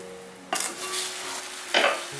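A live crab bakes in a Cantonese clay pot. Cooking wine poured over it sets off a loud, sudden sizzle that hisses steadily, then surges again in a second burst close by.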